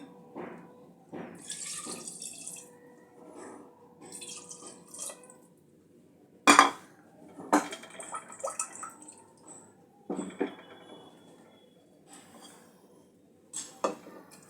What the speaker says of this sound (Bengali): এখানে 1 বাটি জল নিয়েছি, জলটা দিয়ে দেব।